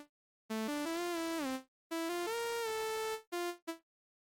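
Bright, buzzy synthesizer hardcore lead plays a few sliding notes alone, each fading over a short release tail after it ends, followed by two brief stabs.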